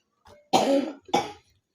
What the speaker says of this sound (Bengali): কাকির ভীষণ কাশি হয়েছে